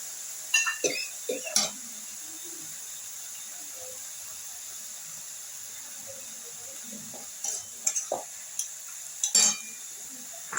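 Boal fish head curry with potato and aubergine cooks in a pan as chili and turmeric are added, giving a soft steady sizzle with a few scattered stirring scrapes and clinks of the utensil against the pan.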